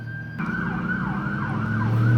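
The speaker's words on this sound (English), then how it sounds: "Ambulance." An ambulance siren wails in steady rising and falling sweeps, fairly close and growing louder over the rumble of passing traffic, with no talk.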